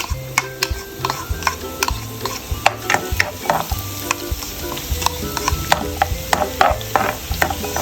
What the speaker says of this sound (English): I think it's hot enough. And I can start sauteing the garlic.